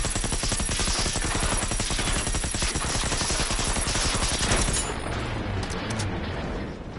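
Dense rapid gunfire from an LMG in Generation Zero rattles without pause, mixed with the blasts of a burst rocket launcher, loud and relentless before thinning into scattered cracks and a fading roar.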